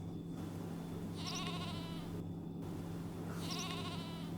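Two wavering sheep bleats from a children's read-aloud sound effect, each lasting under a second, set apart over a steady low hum.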